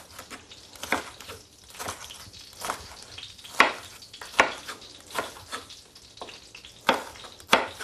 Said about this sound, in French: On remet donc notre poêle et on va pouvoir réaliser la pré-cuisson de nos poivrons.